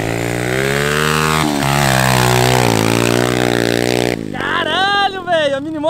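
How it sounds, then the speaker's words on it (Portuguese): A small mini motorbike engine revs hard and strains through mud, its pitch rising and falling continuously, then winds up higher in quick surges near the end. "a ideia é a gente entrar com a mini moto queimando aqui"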